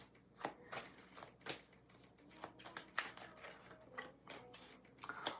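Tarot cards being shuffled by hand in repeated crisp riffles and slaps, close and fairly quiet, with a steady rhythm of card bursts and no talk.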